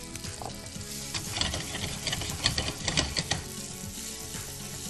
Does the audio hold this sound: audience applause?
no